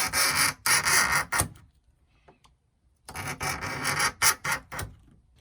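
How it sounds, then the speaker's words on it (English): Blade scoring cuts into rain shield material for a camper van window: two bursts of loud, rapid rasping strokes, each about 1.5 seconds, separated by a quiet gap with a few faint taps. "And now I'm going to score for these cuts here."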